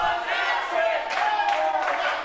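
A wrestling crowd at an RWA Hype show chants in a dense, steady roar of many voices, with rhythmic swells of shouting carrying through the full stretch.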